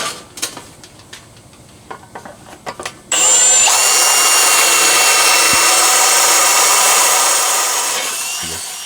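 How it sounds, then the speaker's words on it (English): A few light taps and clicks, then a loud, steady high-pitched drill whine from a 1/4 inch bit boring into a cracked aluminum wheel runs for several seconds before easing off near the end. "we're going to go ahead and drill a hole at the edge of the crack"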